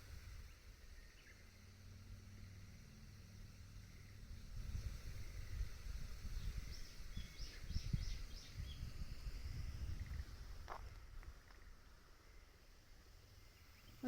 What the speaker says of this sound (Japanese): やだね、バイクの音がしてると。